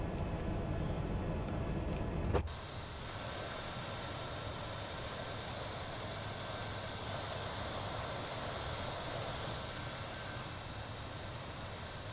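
Pushback of an airliner in a flight simulator on the ground at Amsterdam, a steady broadband engine and tug rumble that runs throughout after a brief bump near the start.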